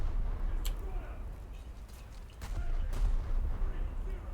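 Naval gunfire from the British battlecruiser Renown in World of Warships: heavy booming shots with sharp cracks, several salvos at irregular intervals over a low rumbling sea and engine bed, aimed at a heavy cruiser.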